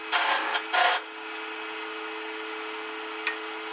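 Short spindle roughing gouge cutting wood on a lathe to turn icicles, two rough scraping bursts near the start and then a steady hum with a faint tick.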